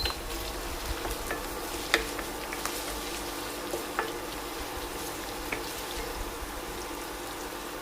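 Chopped garlic and ginger frying in oil in a pan for an instant mango pickle, a constant bright sizzle with occasional soft stirring taps and clicks.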